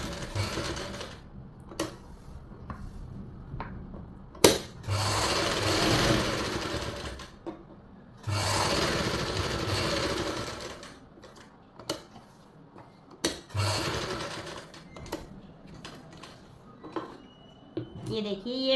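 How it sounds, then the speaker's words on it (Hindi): Sewing machine stitching the edge of palazzo pants, with several loud whirring bursts of needle running separated by pauses and small clicks and handling noises, and someone talking between the runs. "यहाँ से भी हम एक इसकी किनारी से सिलाई लगा लेंगे"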